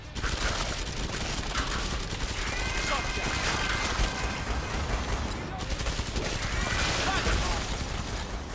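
Rapid SMG fire in the Killing Floor 2 shooter, with sustained bursts of close, dense gunshots running almost without pause and game sound effects layered under a voice talking.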